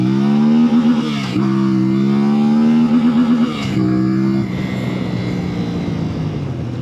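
A CFMoto MT 450 adventure motorcycle revs hard and accelerates, its loud, steady engine drone climbing through gear shifts with brief dips between them, heard close and with no talk.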